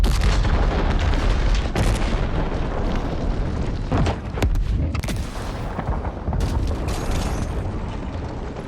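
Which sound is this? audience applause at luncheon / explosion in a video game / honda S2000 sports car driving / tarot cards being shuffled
explosion in a video game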